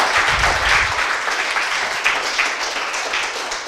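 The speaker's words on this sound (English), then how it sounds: "So let's give a big round of applause, Dan Fleyshman." Audience applause welcoming a speaker onto the stage at a business speaking event: dense, steady clapping from a crowd that fills the whole stretch at fairly high level, with no talking over it.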